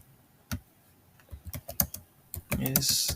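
A computer keyboard typed on in scattered taps that quicken into a dense flurry toward the end, close and moderately loud, with no clear talking over it.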